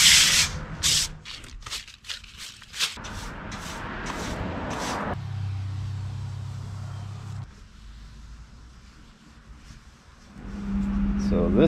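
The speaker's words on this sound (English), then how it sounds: "That's why I'm sanding." A basement bulkhead door is hand-sanded before painting, with rhythmic scratchy strokes up close at first that give way to quieter, steadier rubbing and background hum.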